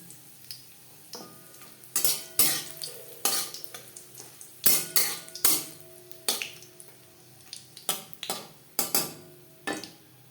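Dried red chillies crackle softly frying in oil in a pan while a utensil scrapes and stirs in repeated sharp strokes, a faint sizzle running underneath.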